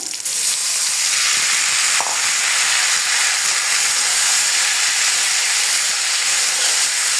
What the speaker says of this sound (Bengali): চিংড়ি মাছ দিয়ে বাঁধাকপি ভাজি হয়ে গেল আমার